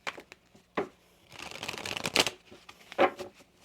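Oracle cards shuffled by hand in a quiet room, with soft riffling bursts and slaps coming in uneven clusters, heard close and alone.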